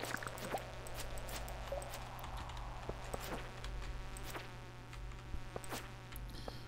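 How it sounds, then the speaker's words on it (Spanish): A swarm of flies buzzes steadily in Stardew Valley, a constant droning hum layered with faint clicks and soft patter, with no voices over it. "Muchas moscas a la vez."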